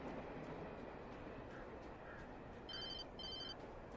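Phone ringing for an incoming call, two short bursts of a high electronic ring in quick succession near the end, faint over steady background noise.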